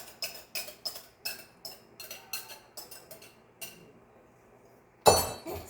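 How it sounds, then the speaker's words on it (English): Whisk or spoon clinking against a glass bowl while mixing pumpkin bread batter of flour, eggs, olive oil and pumpkin, a steady series of sharp close taps that fades out, then a louder scrape at the end. "Now I'm going to mix this together."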